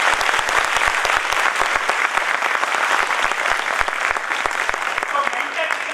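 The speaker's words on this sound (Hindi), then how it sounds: "तो एक जोरदार तालियां होना चाहिए।" A large audience at a motivational speech breaks into dense, loud applause that holds steady throughout, a continuous wash of many hands clapping.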